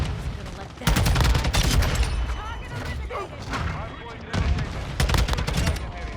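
A TAQ 56 rifle fires in Modern Warfare 2 in two rapid automatic bursts, loud and close, with a quieter stretch of scattered shots between them, while someone talks over the gunfire.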